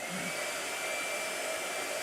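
A blow dryer runs steadily, a constant airy whoosh with a faint motor whine, moderately close and unchanging throughout.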